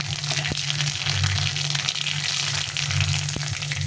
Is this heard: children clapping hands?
no